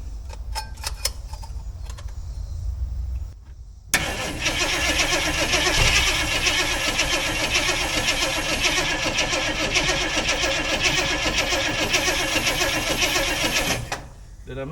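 An old Jeep full-size SJ Cherokee engine with the choke open cranks with a rapid, rhythmic churning for about ten seconds without firing, after a few faint clicks and a short pause, then the cranking stops.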